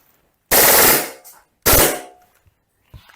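Two loud, close bursts of rapid full-auto fire from a gas blowback BB pistol, each about half a second to a second long and separated by a short pause, with faint clicks trailing after.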